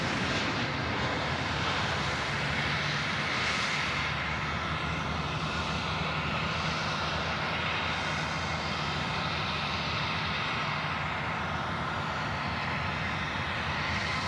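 A steady broadband roar of Qantas Boeing 747-400 jet engines at Sydney airport, constant and fairly loud, holding level throughout without speech.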